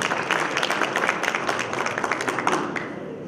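An audience at a teachers' symposium in Turkey applauds a speaker invited to the platform, with dense, steady clapping from many hands filling the room throughout.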